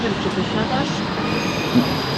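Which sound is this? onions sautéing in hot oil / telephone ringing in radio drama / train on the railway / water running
train on the railway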